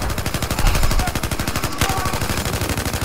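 Rapid automatic gunfire in the video game Mata Mosca 3, a loud, dense, continuous burst of shots with a brief pause near the middle before firing resumes.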